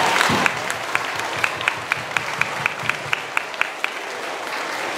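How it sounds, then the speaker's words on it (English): Applause for students receiving citizenship award medals, an audience clapping steadily with a few sharp, distinct claps near the microphone standing out at a regular rhythm above the softer crowd. "please give them a huge round of applause"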